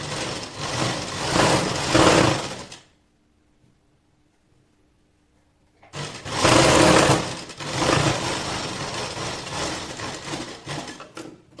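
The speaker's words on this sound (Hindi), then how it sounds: "बिल्कुल उसी सिलाई के ऊपर हम इस पट्टी को बस रखते जाएंगे और उसी सिलाई के ऊपर सिलते जाएंगे" Sewing machine stitching a strip of fabric onto a blouse along an existing seam line, running in two loud steady bursts separated by a quiet pause of about three seconds, with no talk.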